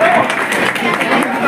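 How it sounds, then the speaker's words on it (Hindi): Audience applause for a student at a Dhanka community day and talent award ceremony, a steady wash of clapping filling the whole moment at moderate loudness with faint voices in the room. "जोरदार तालियां इस बच्चे के लिए"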